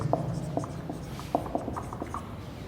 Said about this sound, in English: So we can write also the next point.